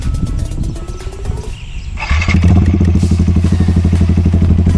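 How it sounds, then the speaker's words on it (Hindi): After some clattering, a modified motorcycle's loud exhaust settles into a deep, throbbing idle, pulsing steadily and close by. "ये इस बाइक की आइडियल साउंड है"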